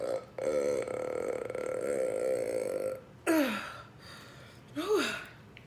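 A loud, drawn-out burp is followed by two shorter, croaking belches, recorded close up after a sub sandwich meal, with soft sounds between them.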